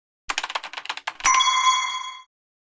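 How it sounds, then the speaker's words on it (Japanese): A quick run of light clicking taps, then a single bright ringing chime sustains for about a second before cutting off, standing alone as the correct-answer bell of a Nepleague-style quiz show parody. "ピンポン。"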